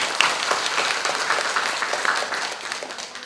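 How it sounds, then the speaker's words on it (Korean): Audience applause at a youth debate final in a hall, a dense, even burst of clapping that holds steady and then fades slightly at the end. "큰 박수로"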